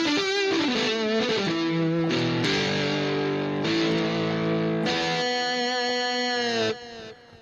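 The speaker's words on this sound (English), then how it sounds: "So get in and explore some great guitars." A guitar tone from a Casio Privia PX-560 keyboard plays a melodic line with bent, gliding notes over sustained chords in an overdriven, distorted sound, fading at the end.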